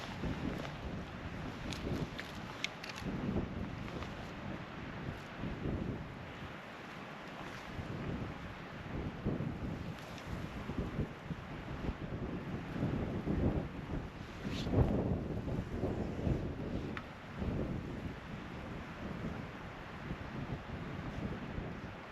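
Breezy outdoor wind gusting against the microphone while a DX Commander Expedition antenna pole is being erected, a continuous rumbling buffet rising and falling in strength, with no clear voices.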